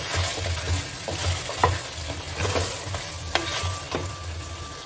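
Mutton frying with coriander powder in a pot for Thalapakatti biryani, a soft sizzle under repeated scraping and knocking of a spoon stirring the meat, close and alone without voices.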